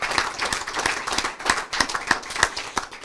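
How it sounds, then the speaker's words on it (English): An audience at a reading series event applauds in a community hall, crisp individual hand claps standing out irregularly against a thinner bed of clapping, fairly close and uneven in rhythm. "Yeah, we can applaud for that."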